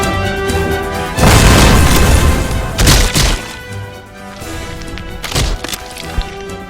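Grenade explosion in a Lego animated action scene, a loud booming blast with crashing impacts that swells, dips, then returns as a second burst; no talking.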